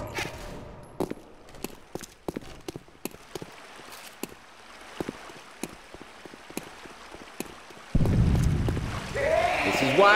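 Sharp gunfire from the zombie shooter Left 4 Dead 2, a string of scattered single shots spread across the stretch, fairly close, with a louder rumbling burst near the end and game chatter underneath.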